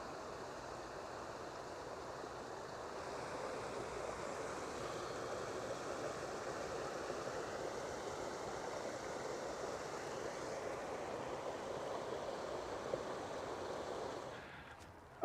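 Water rushes steadily through a mill race in a village, a continuous broad roar like a small weir or stream, unbroken for the whole stretch before easing slightly at the end.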